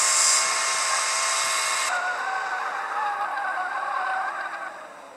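A car's engine in the driving game Car Driving SF gives a high, steady, airplane-like whine that shifts pitch partway through and then fades slightly toward the end.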